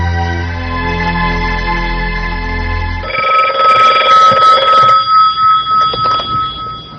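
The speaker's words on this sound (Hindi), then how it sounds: "हाँ मिस्टर मार्टिन का फोन है, आपसे बात करना चाहते हैं।" Telephone ringing loudly in an office, a steady tone giving way to a repeating pattern of bright rings, several evenly spaced bursts close by with no talk.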